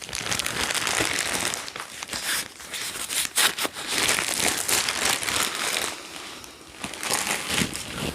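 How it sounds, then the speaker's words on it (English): A plastic bag that came packed with a down hammock underquilt crinkles and rustles up close, in irregular bursts of sharp crackling with short quieter gaps between them. "A plastic bag which I'll probably use for something."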